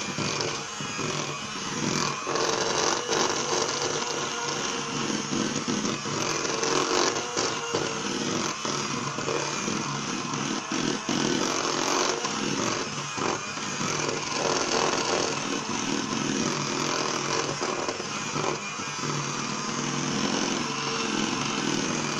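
An electric mixer beats gelatin jelly cheesecake filling, giving a loud, steady, unbroken motor whir that drones on for the whole stretch with no talking.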